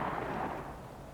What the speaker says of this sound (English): In your pairs, commence firing.